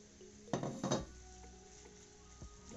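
Tuna filling with hard-boiled eggs being mixed into poached vegetables in a dish for a tuna pie: two quick, close clatters of a utensil against the dish, then softer scraping and a faint knock.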